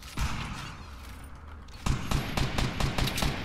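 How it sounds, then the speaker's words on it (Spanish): Rapid bursts of gunfire in the battle royale game Fortnite, a steady run of close, sharp shots after a quieter opening with faint shooting, played in a squad match. "Ey, amigo, están disparando acá. Disparando aquí."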